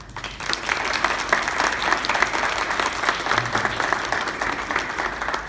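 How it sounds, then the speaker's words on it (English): Graduation audience at a Commissioned Corps officer ceremony applauds its leaders with steady, dense clapping from a large crowd, evenly loud throughout. "please join me in recognizing our leaders with a round of applause"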